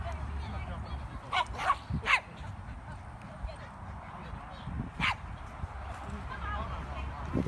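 Dogs bark in short bursts at an outdoor dog park, a few sharp yaps rising above steady background murmur and people talking nearby.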